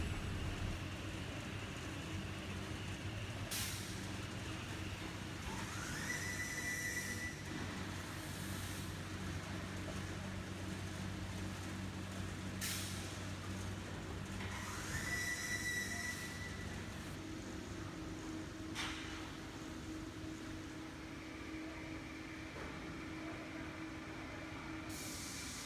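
Continuous industrial machinery hum from a sulfate MgO board production line, with motors and conveyors automatically transporting cut boards into cage vehicles, steady throughout with occasional higher whining and squealing passes.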